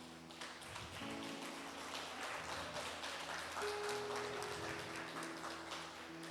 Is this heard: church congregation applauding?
yes